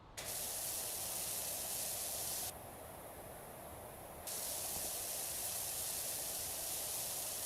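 Pressure washer in the video game PowerWash Simulator sprays a steady, loud broadband hiss that briefly dulls for about two seconds midway, then resumes at full force, with no talk.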